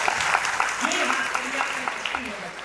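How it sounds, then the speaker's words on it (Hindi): An audience at a Hindi kavi sammelan poetry gathering claps in a steady, moderately loud round of applause, with a voice speaking over it throughout. "एक बार ताली बजा करके माहौल को बढ़िया।"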